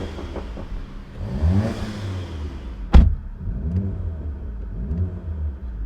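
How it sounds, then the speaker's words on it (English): Interior of a VW GTI with a Unitronic intake and stock catback, a deep engine drone with rising and falling revs and one sharp intake whoosh heard from inside the cabin, close and steady. "When you hop inside the car, we have a ton of intake noise now."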